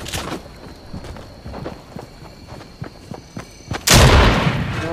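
Gunfire in Fortnite Chapter 3 Season 3 gameplay: a string of sharp, rapid shots pops over ongoing game ambience, then a loud sustained blast or burst swells near the end and holds.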